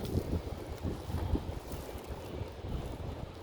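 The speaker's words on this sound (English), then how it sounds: "It really is a windy day." Gusty wind buffets an outdoor microphone on a historic farm in Bristol Township, Pennsylvania, producing low, uneven rumbling thumps and a steady whoosh at a modest level, with no voices.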